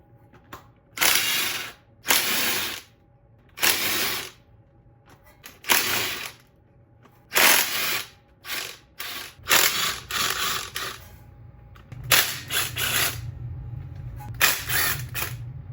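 A hand ratchet clicks out 10 mm bolts on a Honda CR-V transmission cover, in close, short bursts of rapid clicking separated by brief pauses, repeated about a dozen times.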